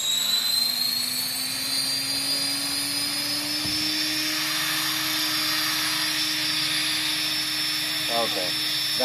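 A Trex 500 RC model helicopter hovering, a steady high-pitched whine of motor and rotor with a slowly rising tone, close and continuous, with a brief thump partway through.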